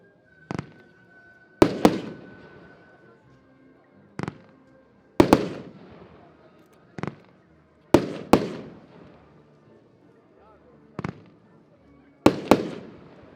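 A Hypnotic 24-shot firework battery fires a steady series of sharp, loud cracks, launch thumps paired with bursts at intervals of roughly a second or two, each trailing off in crackling echo outdoors.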